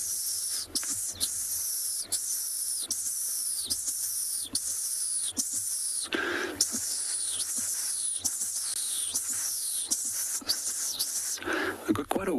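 A person imitates a dwarf mongoose contact call with a run of breathy, hissing chirps repeated about every second, close and fairly loud, with a louder rasping burst midway.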